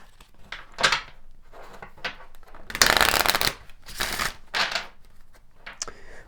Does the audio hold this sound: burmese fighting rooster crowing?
no